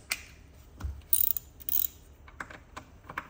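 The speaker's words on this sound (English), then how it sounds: "Now we're going to tighten these down." A ratchet tightens screws on a 4L60E automatic transmission during reassembly, giving a few short bursts of close metallic clicking separated by quiet gaps and softer taps.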